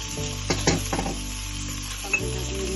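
Dried peas dropped into hot masala with turmeric on low heat, giving a sharp burst of sizzle followed by steady frying and a few utensil stirs, close and without talk.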